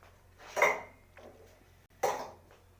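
A spoon stirs homemade tikka masala spices and black pepper in a bowl, giving two brief scraping clinks about a second and a half apart, close and moderately loud against a quiet background hum.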